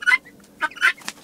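Backyard hens cluck in a few short, close bursts with brief quiet gaps between them.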